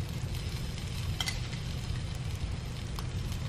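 Diced onions sizzle and crackle in a pan of frying beef for birria tacos, a steady close hiss with a few light stirring clicks and no talking.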